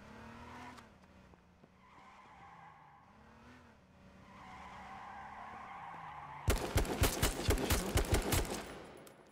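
Car tires skid and squeal in a racing-style action video game, a sudden loud burst of screeching and rapid cracking that enters late and lasts a few seconds after a stretch of low engine hum.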